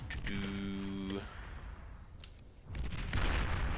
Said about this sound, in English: It's a lot of artillery turrets is what it is.